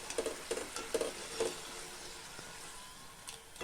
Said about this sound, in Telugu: నూనెలో మాడిపోకుండా జాగ్రత్తగా చూసుకుంటుండాలి దూరగా వేయించుకోవాలి